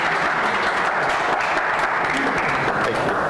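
An audience claps after a workplace technology presentation, a short burst of steady, dense applause throughout.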